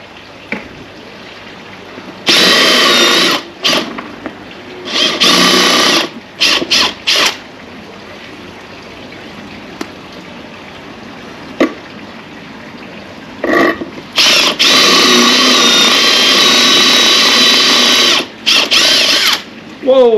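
A power drill bores through a 30 mm thick tile containing metal fibers, letting out loud repeated high-pitched grinding bursts that start and stop across the clip, separated by quieter pauses.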